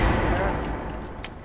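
Gunfire in Fallout 4 on survival difficulty, a quick burst of shots followed by a sharper crack near the end, heard beneath someone talking.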